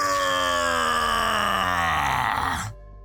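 An anime character lets out a long, loud, strained scream during an energy blast, the sustained cry sliding downward in pitch before cutting off abruptly, with a low rumble remaining underneath.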